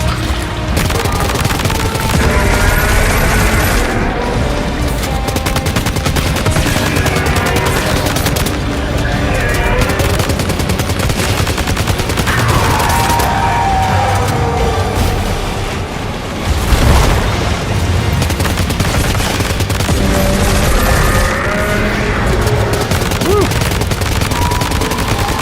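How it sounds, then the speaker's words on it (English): Assault rifle fire roars almost continuously in a Death Stranding 2 battle, loud bursts and booming impacts packed densely over the game's soundscape, with occasional speech mixed in. "I guess it's onto the assault rifle."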